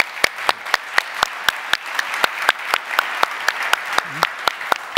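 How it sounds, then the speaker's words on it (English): Sparse, rhythmic clapping at a Factory of the Future conference session, sharp individual claps at a steady pace from a small audience, close and clear. "big applause to him"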